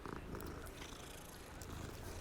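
A cat in the video game Hogwarts Legacy purrs in a soft, continuous rumbling stream, close and steady throughout, with no talking.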